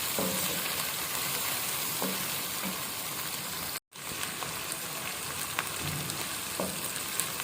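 Whole moong dal and masala roast in a pan with a dense, constant sizzle like heavy rain, under occasional soft scraping stirs, close and even, with a brief cut to silence midway and no speech.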